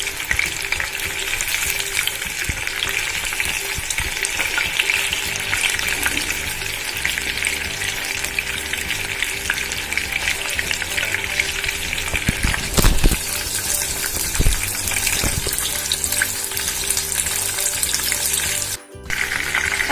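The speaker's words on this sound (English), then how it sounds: "I'm going to fry these until they're golden brown." Prawns deep frying in hot oil for prawns koliwada, a steady loud sizzle and crackle that runs continuously with brief sharper pops and stirring.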